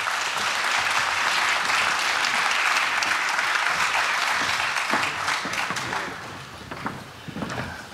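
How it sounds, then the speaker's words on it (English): A conference audience at the Africa Blockchain Conference 2018 applauds, dense sustained clapping filling the room before thinning out and tapering off near the end. "Let's just give them one more round of applause."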